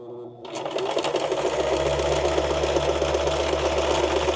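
Sewing machine stitching through fabric folded over several times, a steady fast mechanical whir with rapid needle rhythm, close and fairly loud, starting abruptly and running without pause.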